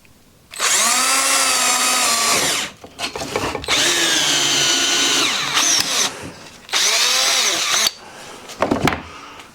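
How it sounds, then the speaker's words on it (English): A power drill whirs in several bursts, a high whine spinning up and down between short pauses, loud and close. "I need my drill, or my hammer drill."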